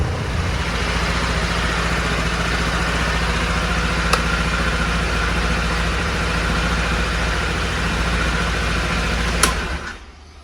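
A 2022 Honda Forza 125 scooter engine idles steadily at close range, a low even drone held throughout, with two brief sharp clicks before it cuts off near the end.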